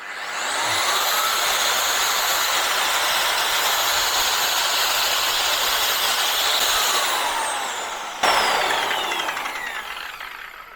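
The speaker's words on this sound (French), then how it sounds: "Je vais démarrer mon rénovateur, ça va faire un peu de bruit" An electric surface renovator motor runs off an Anker SOLIX F1200 portable power station, a loud steady whine and rush that holds nearly level, then drops and restarts with a sharp jump near the end, with no talk.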